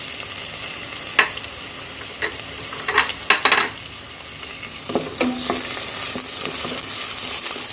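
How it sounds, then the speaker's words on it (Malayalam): Ginger hitting hot oil in a pan while cooking Buhari rice, giving a steady bright sizzle with scattered clinks and scrapes of stirring, close and fairly loud, with no talking. "ഇനി നമ്മുടെ ഇഞ്ചി ഇതിലേക്ക് ചേർത്ത് കൊടുക്കാം"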